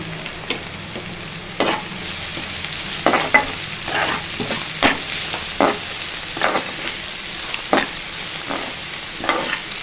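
Gongura (sorrel leaf) curry frying in a pan with turmeric just added, a steady close sizzle broken by repeated scraping stirs of a spoon against the pan, village-style home cooking.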